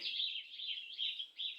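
A pet common myna gives a series of bright, whistled chirps in short repeated phrases, close and fairly soft, with no other sound.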